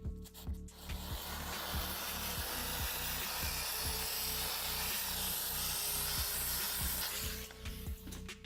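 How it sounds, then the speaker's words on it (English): Steady hissing steam from a steam cleaner working into car interior crevices, a continuous close spray with faint rhythmic clicking underneath. "I am just gonna use steam on some of these crevices because that's how you detail"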